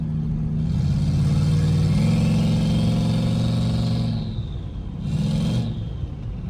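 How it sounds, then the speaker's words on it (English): A turbocharged LS engine in a GMC Sierra pickup truck revs hard and accelerates with a steady roar and turbo whine, easing off briefly near the end before surging again. "that turbo sounds so good"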